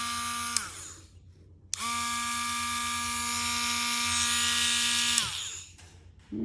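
A Harbor Freight Warrior mini rotary tool whines at high speed in two close runs, a short first spin and then a longer, steady one, each winding down after shut-off.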